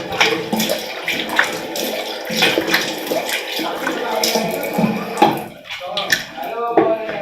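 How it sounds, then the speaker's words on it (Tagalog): Running tap water splashes as a face is washed with Cetaphil Gentle Skin Cleanser, irregular close splashes and hand rubbing over a steady flow, with some talking mixed in. "I'm gonna wash my face using the Cetaphil Gentle Skin Cleanser"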